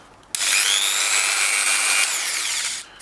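An Ozito 260W file sander on speed setting 1 starts abruptly and runs with a high, whining belt hum for about two and a half seconds, then winds down, close up.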